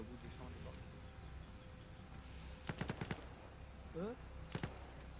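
Bursts of gunfire in a video game, a rapid volley of several shots followed by a shorter burst, loud over steady background rumble and ambience.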